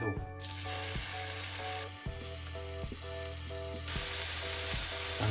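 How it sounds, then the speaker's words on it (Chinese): Tofu sizzles in lard in a pan with a steady, moderately loud crackling hiss. A regular low mechanical ticking pulses underneath it. "用锅中刚才炒出来的一些猪油继续煎豆腐。"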